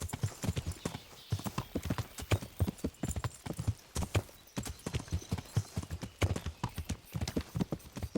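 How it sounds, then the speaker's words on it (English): A horse gallops in Kingdom Come Deliverance, giving a fast, steady run of close, thudding hoofbeats in a driving rhythm that carries through the whole stretch. "I'm just charging past on my horse."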